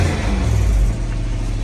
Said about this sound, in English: We do have leaking exhaust though.